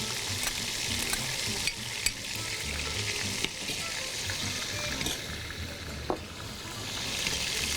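Ground ginger and garlic sizzle and fry in a pot for chicken nihari, a continuous hiss broken by occasional sharp clicks and spatula taps, with faint watery splashing and no clear talk.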